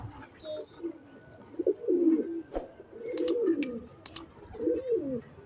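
Soft pigeon coos repeat in low throaty bursts, with a few sharp clicks and a faint distant whistle in between.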